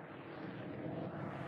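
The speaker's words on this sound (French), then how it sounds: "un avion survole la zone toutes les minutes." A military airplane flies over the area, a faint, broad, steady engine roar that swells slightly and continues throughout with no talk.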